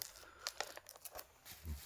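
Plastic shrink wrap is torn and crinkled off a Disney/Marvel steelbook, with a few short, quiet rips and crackles close by.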